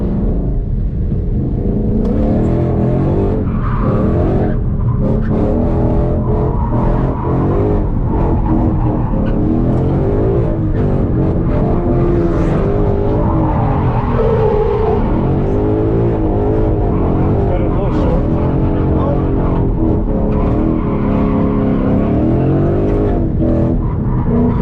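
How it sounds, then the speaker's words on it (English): A supercharged Chevy truck engine roars and revs hard at a drift event, tires skidding and squealing under sustained loud engine noise throughout. "That's a truck engine with a supercharger on it."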